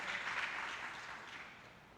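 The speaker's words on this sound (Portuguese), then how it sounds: "dá um aplauso a Jesus, bem bonito" Church congregation applauding together during a worship service, a steady wash of clapping that is fairly faint and fades slightly toward the end, with no talking over it.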